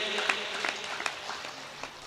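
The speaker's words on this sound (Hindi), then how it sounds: "एक बार जोरदार तालियां भाई मुन्ना बैटरी के लिए" An audience at a poetry recital gives a short burst of steady clapping with a few sharper claps, dense and close, filling the whole moment without pause.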